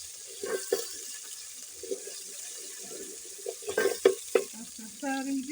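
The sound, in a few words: onions frying in hot oil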